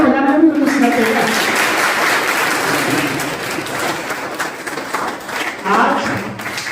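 Audience clapping at a Constitution Day ceremony at a polytechnic institute in Kannauj, a dense, steady patter lasting several seconds, with voices murmuring underneath and a voice speaking near the start.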